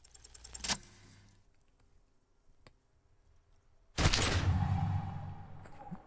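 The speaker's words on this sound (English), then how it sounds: "A plume of smoke and fire erupts from the gun, and your hand goes numb from the explosion." A gunshot in the video game Disco Elysium: one loud, sharp blast with a long smoky rumble that trails off, after an earlier burst of noise and a quiet stretch.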